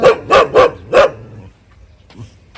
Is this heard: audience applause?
no